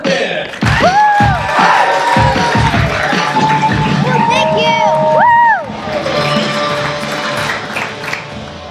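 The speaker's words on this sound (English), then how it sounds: "just warm round of applause" A comedy-club crowd applauds and cheers as a stand-up comedian is introduced, with a burst of clapping, whoops and shouts that builds quickly, then fades into lighter chatter and scattered claps.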